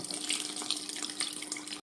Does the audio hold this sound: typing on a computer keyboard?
no